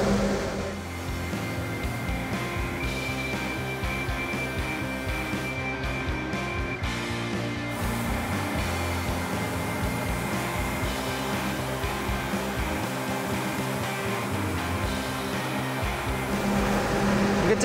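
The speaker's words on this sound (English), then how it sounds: "What Dolph is spraying right now is finish sand. It's a hybrid polyester primer." A spray gun lays hybrid polyester finish-sand primer onto a classic Ford Bronco in a paint booth, giving a loud, continuous airy hiss that holds steady throughout with no voices.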